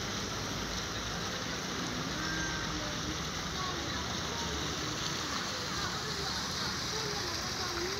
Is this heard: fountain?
yes